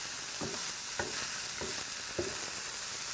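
Cauliflower rice sizzles in a pan, a steady bright frying hiss with four evenly spaced soft scrapes of a utensil, close and quiet, with no talking.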